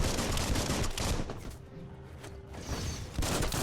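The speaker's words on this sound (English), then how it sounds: "That's right, bullets everywhere." Gunfire in a video game: dense, rapid bursts of shots and booms, loud at the start, thinning briefly in the middle, then picking up again at the end.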